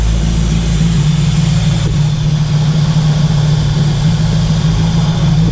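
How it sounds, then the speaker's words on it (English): Big-block Chevy V8 idling in a 1968 Nova after running for some time, a loud, steady low rumble with an even, unchanging rhythm, heard close up with no one speaking. "it's been sitting in idling for about 10-15 minutes now"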